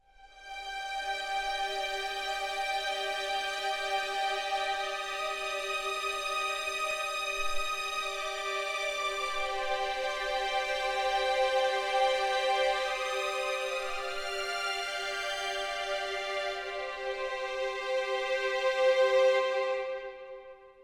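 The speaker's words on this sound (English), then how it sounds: "So this is just a violin's legato patch," Spitfire Audio virtual violins playing legato and long string patches, sustained smooth bowed notes that glide from one pitch to the next, clear and alone with no talking.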